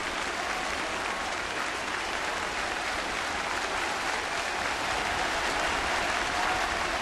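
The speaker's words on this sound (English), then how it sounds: "Crowd has come alive here at the Rogers Center" A big baseball crowd of over 42,000 at the Rogers Centre in Toronto applauds and cheers steadily, a dense roar of clapping that swells slightly toward the end.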